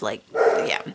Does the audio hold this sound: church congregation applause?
no